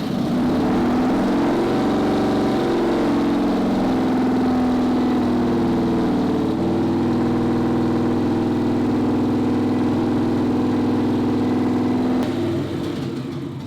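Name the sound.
Victory V-twin motorcycle engine idling, exhaust running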